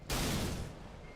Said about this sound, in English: How does it sound with just the turret sound?